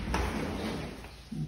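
A pocket door in a walk-in closet of a house slides along its track, a short rolling rumble with a knock at the start and a soft thud as it stops, heard close up without talk.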